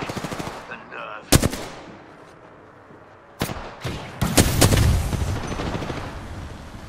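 Automatic weapon fire in the battle-royale shooter Apex Legends: a few sharp single shots early, then a burst of rapid gunfire rising into sustained loud shooting near the end, with faint talk between.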